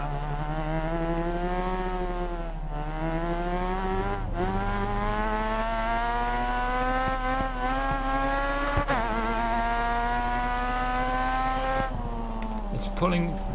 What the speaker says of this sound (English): Let's drive slowly but surely towards the finish line